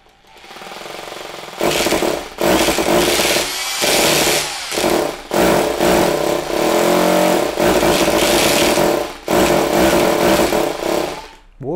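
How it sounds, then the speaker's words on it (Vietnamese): Bosch hammer drill in concrete drilling mode, loud and close, giving repeated bursts of harsh rattling hammering separated by brief pauses as the trigger is pulsed, no speech over it. "Chức năng khoan bê tông."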